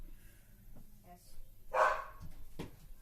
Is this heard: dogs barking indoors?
yes